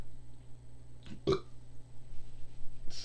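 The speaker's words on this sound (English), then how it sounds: "Sorry for that burp." A single short human burp lands near the start, followed by a brief throaty sound at the end, close and fairly loud against a quiet room.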